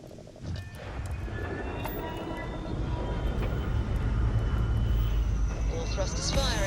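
Spaceship thrusters firing in Starfield, a steady roaring engine rumble that builds gradually in loudness and fills the scene as a continuous drone.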